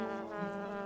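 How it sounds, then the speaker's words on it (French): Cartoon flies buzz in a steady, close, droning hum that carries evenly through the brief moment without a break. "Les mouches adorent tout ce qui est dégoûtant."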